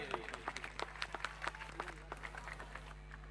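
Scattered hand claps from an audience at a school prize ceremony during a high school annual program, a thin, uneven patter of individual claps, fairly distant and quiet over a steady low hum, with no one speaking.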